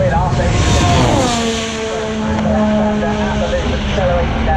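A Formula 1 car accelerates during qualifying at the 2021 British Grand Prix, its engine screaming and climbing through the gears in a loud, high whine. A commentator talks over the engine throughout.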